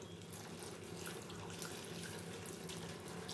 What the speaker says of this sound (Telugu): ఇప్పుడు మనం ఏం చేయాలంటే దీంట్లో వాటర్ పోసుకోవాలి